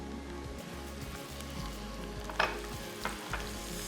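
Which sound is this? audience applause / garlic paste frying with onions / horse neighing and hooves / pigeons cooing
garlic paste frying with onions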